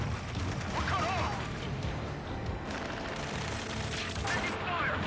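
Gunfire and combat noise in the video game Ace Combat 7, with continuous rattling shots and crashes layered over a dense battle din, with radio-style voices talking over it.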